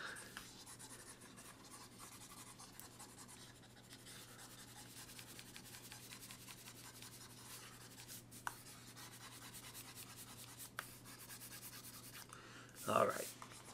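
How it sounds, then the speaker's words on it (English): Pencil writing rubbed out with an eraser on paper, a soft continuous scrubbing close by, with a quiet voice briefly near the end. "Let's erase this stuff."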